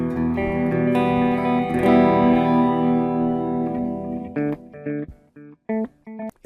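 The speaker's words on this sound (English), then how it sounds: "next, dual delay." Electric guitar run through the dual delay effect of a Line 6 Pod Go, sustained chords with layered repeats washing together, then short plucked notes whose echoes trail off in distinct bursts near the end, played alone without talk.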